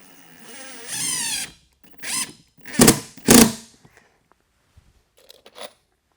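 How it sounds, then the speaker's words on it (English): Screws driven into a wooden honey bee hive super box with a power drill; several short whirring bursts close up, one longer run followed by quicker ones, with faint clicks and handling noises between. "I'll repeat that process very quickly with 2 more screws on this corner"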